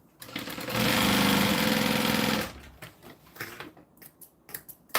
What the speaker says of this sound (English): I just do stitches right across the top of each of those folds.